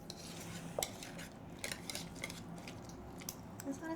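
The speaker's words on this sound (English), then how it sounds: "keep stirring from the bottom" A spoon scrapes and clinks against a pot while stirring a chicken dish with lemon juice, a quiet, continuous churning with small metallic taps, close by and without talk.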